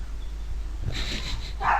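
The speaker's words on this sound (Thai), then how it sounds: "มีหมาเห่าเลย" A dog gives a couple of short, fairly faint barks near the end, over a low steady background hum during a game stream.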